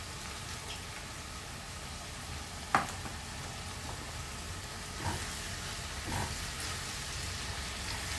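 Ginger paste and onion fry in a pan for a dhaba-style chicken curry, giving a steady, moderately loud sizzle with a few brief clinks or stirs, no talking.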